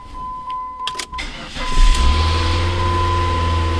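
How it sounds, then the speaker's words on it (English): A Dodge Neon with a 2.0 SOHC engine, under cylinder head gasket repair, cranks and starts, with a brief click and whine before the engine catches and settles into a steady low hum. "So we're going to try to start this up. See if it'll start. It should start now."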